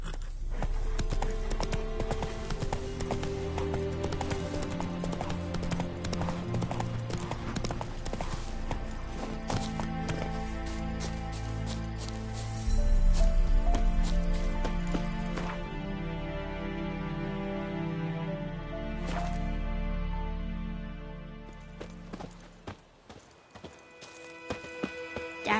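Horse hooves clip-clop steadily in The Witcher 3, a rhythmic run of close, clear hoofbeats over a low ambient drone and game music that shifts partway through, then fades toward the end.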